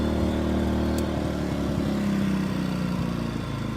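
A WEN 56200i 2000-watt portable inverter generator runs with eco mode off, giving a steady, close engine drone with a constant low hum and no talking throughout.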